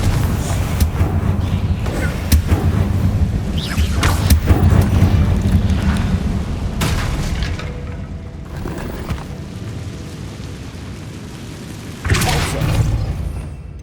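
The Confringo explosion spell goes off in the video game Hogwarts Legacy on PS5, deep booming blasts and whooshes over a dense rumbling game soundscape, with a renewed burst near the end.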